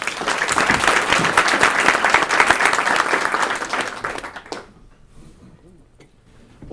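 Luncheon crowd applauding Police Chief Ken Thomas at a Kent Chamber event: dense, loud clapping for about four and a half seconds, then tapering off into quiet room noise.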